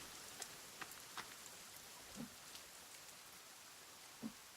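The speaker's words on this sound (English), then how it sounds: "Oh, thank God it's raining." Rain falls in The Forest survival video game as a faint, steady hiss with a few sparse, soft drop taps scattered throughout, quiet and without voices.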